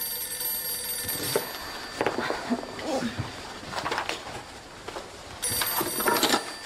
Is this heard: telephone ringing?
yes